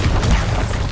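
A loud, close, booming blast from the Bombarda spell in the Hogwarts Legacy game, a thick rumbling explosion that fills the whole second with no voices over it.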